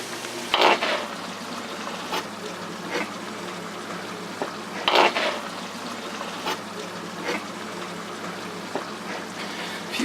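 Chicken and lamb cooking in a pan for an Indian curry, a steady sizzle and fry with a few louder stirring scrapes and clatters, close and without talk.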